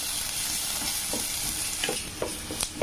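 Chopped onion sautéing in melted butter in a pan, a constant close sizzle with occasional scraping clicks from stirring. No one speaks.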